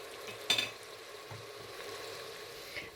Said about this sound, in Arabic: غادي شويه البصله